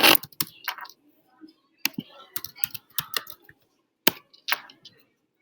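Login details being typed on a computer keyboard, close and fairly loud clicks in irregular clusters and quick runs separated by short pauses, in a quiet room.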